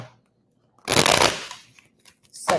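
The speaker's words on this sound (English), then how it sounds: "Let me just shuffle real quick." Tarot cards shuffled in a brief, close riffling burst that fades into soft sliding, followed by a second short flick of the cards.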